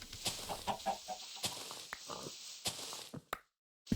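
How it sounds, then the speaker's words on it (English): Minecraft chicken clucking in short scattered bursts over a quiet outdoor plains-and-hills game scene, with soft footstep-like taps between the calls. "Hi, chicken."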